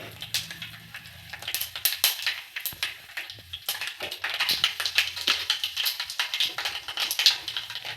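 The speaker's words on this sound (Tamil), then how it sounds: "கடுகு நல்லா பொரிஞ்சிருச்சு." Mustard seeds popping in hot oil in a pan with dried red chillies, a dense run of sharp crackling pops and taps at irregular rhythm, close and fairly faint.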